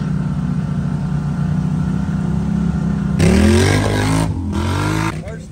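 An off-road vehicle on 33-inch tires idles with a low rumbling drone on a muddy trail, then its engine revs up loudly midway before the sound cuts back.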